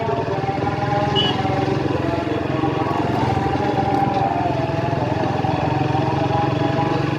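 A new Suzuki Gixxer motorcycle engine drones steadily while riding along a village road, a continuous, even roar with no pauses and no talking.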